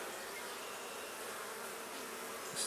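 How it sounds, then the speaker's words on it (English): Honey bees, drones and workers, drone in a dense, continuous buzz from an open beginner's hive during an inspection, close and even without talk. "Lots of drones on this one. Lots of worker bees."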